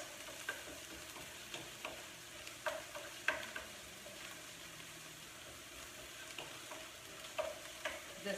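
Black beans and aromatics sautéing quietly in a pan while Venezuelan-style black beans and rice are cooked, a faint steady sizzle broken by a few light clinks and stirs, with no talking.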